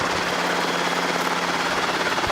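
A Robinson R22 helicopter with its engine running as it comes in to land, a loud steady rotor and engine drone that fills the whole stretch without breaks and has no talk over it.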